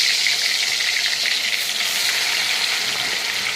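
Fish frying in hot oil in a home kitchen, a steady, bright sizzling hiss that crackles continuously up close without pause, with no voices.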